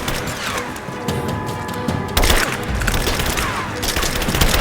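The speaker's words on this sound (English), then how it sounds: "We've got shots fired!" Rapid gunfire from a firefight in the video game Rise of the Tomb Raider, with dense overlapping bursts and sharp cracks that grow louder and more intense midway, close and continuous.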